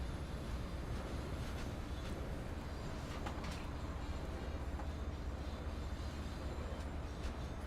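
An EMD F40 locomotive rumbles in the Train Sim World 2 rail simulator. A steady, faint, continuous low drone with rolling wheel noise plays on its own, with no talking.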